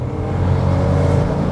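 A compact SUV accelerates hard at full throttle from 60 km/h, its engine a loud, dense, close roar that swells slightly and holds steady, with no speech.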